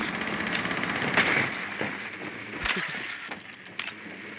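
Gunfire in the Rainbow Six Siege video game during a hostage round: a few sharp, fairly close shots and bursts scattered through a steady bed of game ambience, with no talk.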